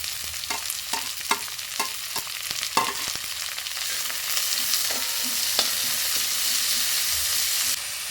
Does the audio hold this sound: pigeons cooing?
no